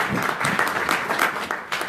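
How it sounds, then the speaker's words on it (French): A church congregation applauding the Lord, dense continuous clapping from many hands filling a short burst, close and steady. "Est-ce qu'on peut acclamer le Seigneur?"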